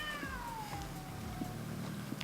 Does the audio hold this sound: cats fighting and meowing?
yes